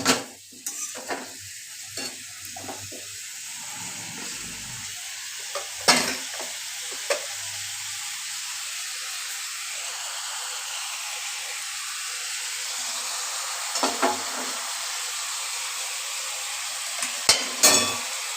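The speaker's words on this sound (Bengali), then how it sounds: "এবার নাড়াচাড়া করব" Prawn curry with pointed gourd and potato is stirred as it fries in a pan, a steady close sizzle broken by occasional sharp scrapes and clatters of the spatula against the metal.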